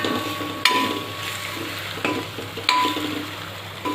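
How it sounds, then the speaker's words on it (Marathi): Eggs frying in a thick masala anda curry in a pan, a steady close sizzle with occasional sharp scrapes and taps of a spoon stirring the pot. "अशा मस्त मसाल्यामध्ये हे सगळे फ्राय होतात"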